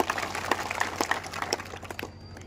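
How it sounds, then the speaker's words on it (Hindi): Audience clapping at a public talk by a district police chief in Mewat, a steady patter of many hands, moderately loud and continuous, tapering off toward the end. "तो उनके लिए भी तालियां बनती है एक।"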